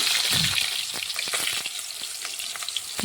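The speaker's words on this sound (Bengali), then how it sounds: "এখন আমি তেলের মধ্যে আলুগুলো দিয়ে সামান্য পরিমাণে লবণ আর হলুদ দিয়ে আলুগুলো আমি ভেজে নেবো" Potatoes frying in hot oil with a little salt and turmeric for a Bengali chicken curry, giving a loud, close, steady sizzle with crackles and a few stirring clicks and no voices.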